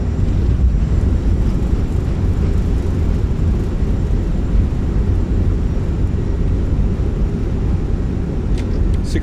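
Fenix A319 airliner in Microsoft Flight Simulator applying reverse thrust on landing, a loud steady low roar of engine and rumbling rollout noise, constant throughout, with no voice over it.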